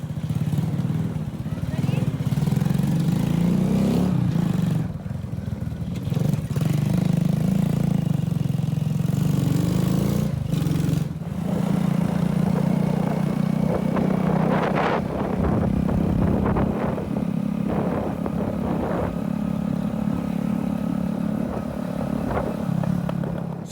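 A motorbike engine drones steadily and loudly throughout a ride to the Blue Lagoon near Vang Vieng, Laos, with wind rush and road clatter mixed in and a voice talking over it.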